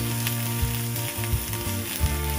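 Breakfast sausage links sizzling on a Blue Rhino outdoor griddle, a loud close frying hiss over a steady low hum, with a few dull knocks, no voices.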